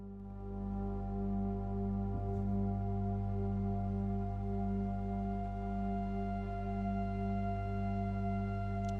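Evolving ambient synth drone with a fluty tone, sustained layered pitches holding steadily and quietly, with almost no breaks in the texture.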